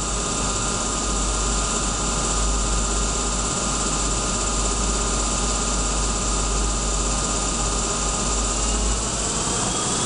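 A 2008 Doosan Puma 400LC excavator engine runs loud and steady at high RPM, a constant close-up roar with no breaks.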